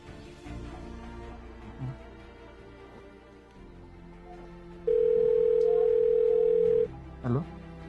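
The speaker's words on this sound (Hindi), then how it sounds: "उसको मैं फोन करता हूँ" A telephone ringback tone sounds as a call is placed, a steady loud tone lasting about two seconds, heard after low background murmur and a few shuffling sounds.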